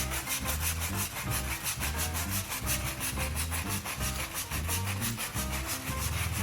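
Steady back-and-forth scrubbing of a badly stained spot using a cleaning product, a loud, continuous rhythmic rubbing that fills the clip without any talk.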